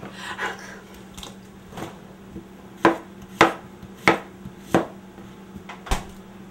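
A knife chops vegetables steadily on a cutting board, sharp knocks landing about every half second, close and clear with no talking.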